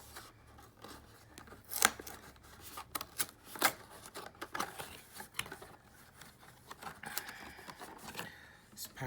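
Philips Bluetooth light bulb packaging being opened by hand, a run of crisp tearing, rustling and snapping bursts with sharp irregular peaks, close up, and no voices over it.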